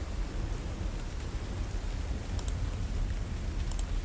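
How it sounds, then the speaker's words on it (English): Heavy rain hammers steadily against window panes in a dense, unbroken roar, with a low rumble of thunder underneath throughout. "The sound of the rain hammers against the window panes."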